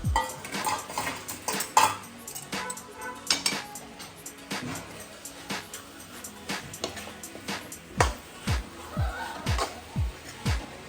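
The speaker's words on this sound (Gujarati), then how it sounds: "લીલી હળદર હતી એ હવે એડ કરીશું અને બધું મિક્સ કરી દઈશું" A spoon scrapes and clanks against a metal pan while fried green turmeric is stirred and mixed, giving irregular close metallic knocks and scrapes with a quiet background.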